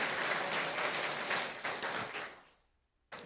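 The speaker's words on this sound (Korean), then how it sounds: "이 시간 다 함께 하나님께 영광의 박수, 감사의 박수를 드리겠습니다." A church congregation at a Sunday worship service claps together in sustained applause that swells, then fades toward silence before a brief final burst of claps.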